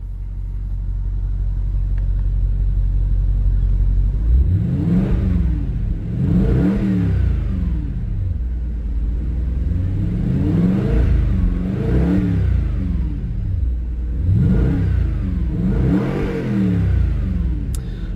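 A 2015 Audi RS5 Cabriolet's 4.2 V8 starts up after a quiet idle rumble, then revs hard in several loud, close bursts, each rising and falling back, with no talking.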